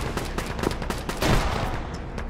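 Tank fire and gunfire during an ArmA battle, heard as a dense string of close, sharp shots and heavy bursts with a louder boom near the middle, continuous and without talk.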